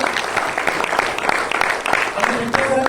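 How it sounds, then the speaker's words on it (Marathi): Applause from a seminar audience fills the room steadily, many hands clapping together in a dense, continuous wash. "सरांसाठी पण एकदा जोरदार टाळ्या व्हायला पाहिजे."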